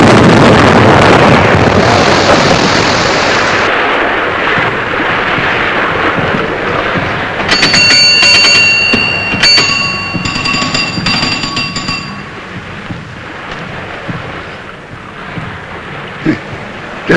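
A small pinnace boat approaching across open water, its motor steady and loud under heavy wind buffeting and splashing, with a brief burst of bright ringing tones midway through.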